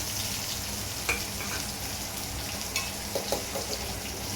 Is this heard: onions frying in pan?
yes